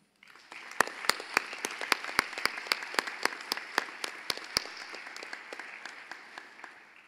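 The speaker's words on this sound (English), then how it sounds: "Students, please join me in a round of applause for Dr. and Mrs. Rosenblum and the Upper Midwest section of the American College of Dentists." At a dental school white coat ceremony, students give a round of applause, with one loud, evenly paced clapper up close over a softer crowd that fades out after a few seconds.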